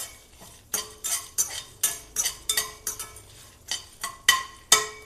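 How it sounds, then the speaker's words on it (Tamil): A spoon scrapes and knocks against a pan as garlic is stirred among dry-roasting spices, a regular series of close metallic clinks and scrapes with no talking. "அதை லேசாக ஒரு கிண்டிக்குவோம்."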